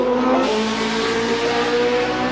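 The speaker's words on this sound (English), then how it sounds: "You can hear the wheel spin as he accelerates" A racing car accelerates on a wet track at the Australian Grand Prix in Adelaide, its engine rising in a loud, sustained scream with wheel spin, close and alone.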